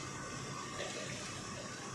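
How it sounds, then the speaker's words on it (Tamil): Hot water pours into vegetable biryani masala in a pot, a soft continuous gushing stream that stays faint and even throughout, with no talking. "இப்போ தேவையான தண்ணி சேர்த்துக்கலாம்."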